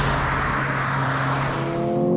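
Mercedes-AMG CLA35 engine under way, a loud steady close drone from the cabin that rises in pitch toward the end, with no talk.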